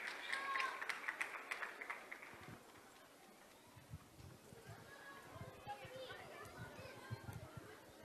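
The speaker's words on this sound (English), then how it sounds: "let's give Miss Guerrero's class a big round of applause" Children and adults clap at an elementary school fifth grade celebration, the applause faint and scattered amid a hubbub of children's chatter and shuffling, building slightly toward the end.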